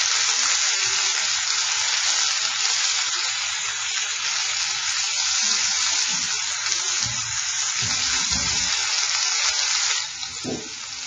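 Ground meat for tacos fries in a thick pan with a steady, loud, dense sizzle throughout, with occasional soft scraping and stirring knocks near the end and no talking.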